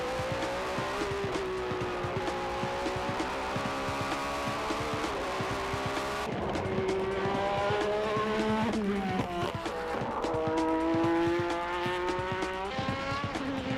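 A race car on a circuit during a qualifying time attack screams past with a high, continuous engine whine, the pitch climbing through gear changes and dropping between them, loud and close with no talking.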